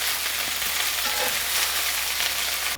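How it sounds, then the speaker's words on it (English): Chicken searing in a hot pan, a close, steady crackling sizzle lasting a few seconds with a brief clatter right at the end, no voices. "let's go ahead and sear this for another 3 to 4 more minutes"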